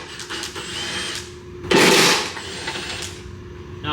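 A power tool removes 11 mm trunk bolts on a BMW 335i, giving a close, sharp whirring burst of about a second over a low workshop hum, with faint clicks before and after.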